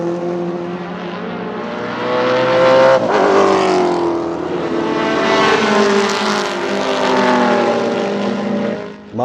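Improved Production race cars, including a Holden Torana and a Datsun 120, roar past at Baskerville circuit. Loud engines rise and fall in pitch as they pass, overlapping throughout with no talk.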